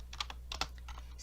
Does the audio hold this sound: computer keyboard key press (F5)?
yes